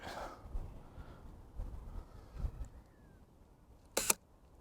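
A large format Intrepid 4x5 camera's shutter fires outdoors among beach huts, a sharp, brief mechanical click standing out near the end against quiet background ambience with soft rustling handling noises earlier.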